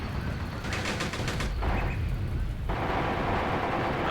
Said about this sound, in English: fire continues. Really withering fire here to our foe.